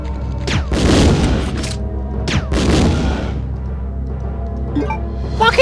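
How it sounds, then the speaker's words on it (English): Grenade launcher blasts in the Resident Evil 2 video game: two loud, booming shots about two seconds apart, each a sharp crack that trails into a rumbling explosion, followed by quieter mechanical clicks and handling noises. "Taking my grenade launcher out"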